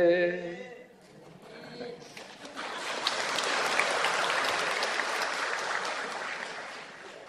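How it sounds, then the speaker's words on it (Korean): An audience breaks into broad, steady applause right after a sung pop tune performed without accompaniment; the last held notes of the voice give way to the clapping, which swells and continues for several seconds. "박수 쳐주신 분 고마워요"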